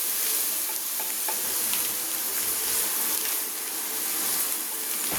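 Onions and curry leaves frying in a pan for an egg gravy, a continuous loud close sizzle with a few light stirring clicks throughout, no voices.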